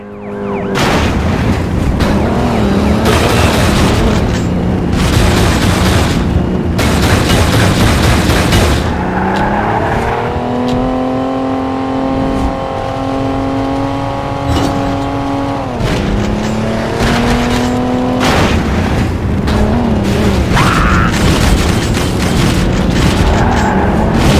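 Gunfire and explosions in the Pursuit Force video game ring out in dense, loud bursts over a roaring engine, with a long stretch of steady engine drone in the middle before the blasts resume.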